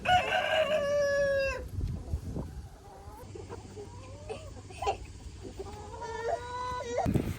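On a homestead a rooster crows loudly at the start and again near the end, while chickens cluck and chatter softly in between.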